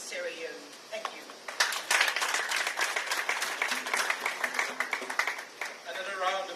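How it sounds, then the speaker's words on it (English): Applause from an audience at a ceremony honoring a partner in Sierra Leone's development, building after a moment of quiet into steady, sustained clapping with some voices mixed in. "Another round of applause for Ms. Ngozi Bekele"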